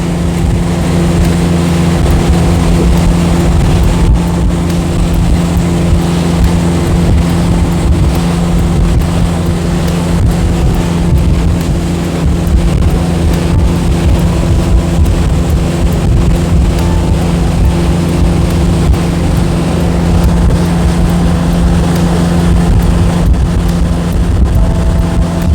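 A motorboat cruising on a lake near Bobcaygeon, Canada, with a steady engine drone, rushing water and heavy wind buffeting throughout, no one talking.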